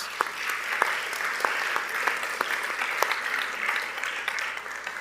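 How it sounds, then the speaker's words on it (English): An audience at a graduation ceremony applauds steadily, many hands clapping in a dense, even wash with a few sharper claps standing out, no talk over it. "Let's give them all a round of applause."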